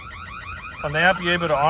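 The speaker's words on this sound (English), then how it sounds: "Gives them the alarm alert that the alarm is going off." A Snap-on tool truck's alarm wails with a rising and falling electronic siren, loud and close, jumping to a louder, harsher tone partway through.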